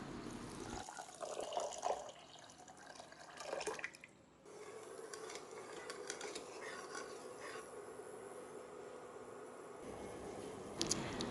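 Water poured into two cups of sugar to make syrup for kala jamun, then stirred and heated; a steady liquid pouring and trickling sound with drips, fairly close and continuous, with no talking.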